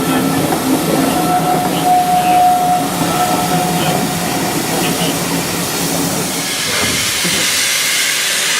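Vintage steam train at a Keighley & Worth Valley Railway spring steam gala, giving off a loud, continuous broadband hiss of steam with a faint steady whistle-like tone early on. The hiss stays close and dominant throughout.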